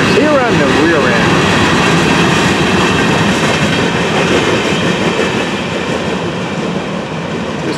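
An FEC freight train rumbles past close by with steady broadband roar and rhythmic rail clatter, continuous throughout, a voice faintly audible beneath the noise.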